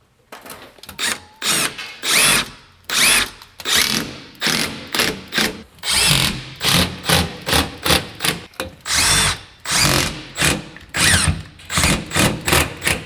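A power drill drives 1 1/4-inch truss head screws into a basement drop ceiling, sounding in about twenty short, loud whirring bursts with brief pauses between them, close by and with no speech.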